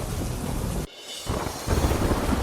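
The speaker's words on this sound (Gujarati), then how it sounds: "ધોધમાર વરસાદ" Heavy monsoon rain pours in a dense, loud hiss, cut by a brief dip before a deep rumble of thunder swells under the downpour.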